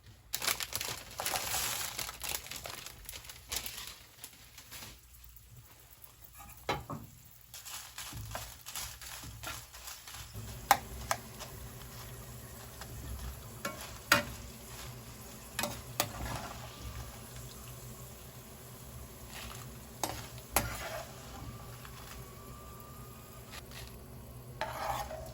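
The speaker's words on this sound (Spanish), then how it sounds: "Después de haber freído los ajos y los chiles" Garlic and chiles fry in oil in a pan, giving soft sizzling with scattered stirring scrapes and clicks, quiet and close, no voices.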